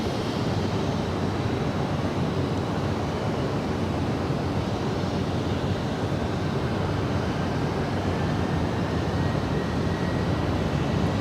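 An airplane at Los Angeles International Airport (LAX), a steady broadband jet roar that sounds distant and sustained without a clear rise or fall.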